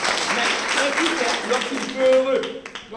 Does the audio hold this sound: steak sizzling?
no